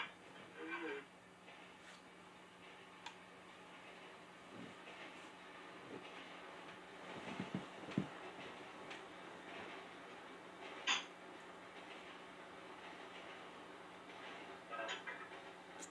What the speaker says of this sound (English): There's a train coming, guys.